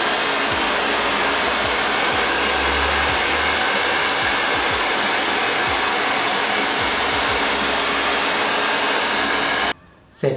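Hair dryer blowing steadily on an air conditioner filter during a home AC cleaning, a loud continuous close whoosh running for about ten seconds before cutting off abruptly, then briefly starting again.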